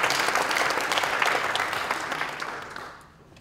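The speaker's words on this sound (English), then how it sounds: "A round of applause." Loud, dense applause from a crowd at a foundation's tenth anniversary event, honoring an ambassador, holding steady before fading out toward the end.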